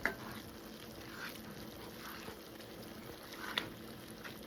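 A spoon stirs a Philly steak, cheese and pasta casserole mixture with Italian style cheese blend in a pan, a quiet patter of soft scraping and light sizzling, with a few faint clicks.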